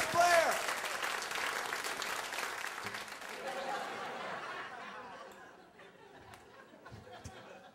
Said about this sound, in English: A warm welcome, please, for Dennis Blair. Clap your hands,